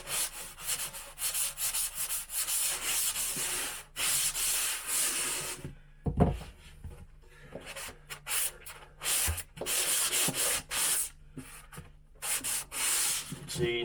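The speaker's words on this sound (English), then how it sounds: "we're going to carefully just get nice and close and sand out any imperfections" Dried drywall patch in a wall hole repair being sanded by hand up close, rhythmic scratchy rubbing strokes in bursts of a second or two, separated by brief pauses, loud with no speech.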